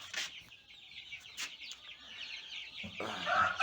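Soft, scattered clucking of young chicks at a moderate distance, with brief louder squawks near the end and no voices.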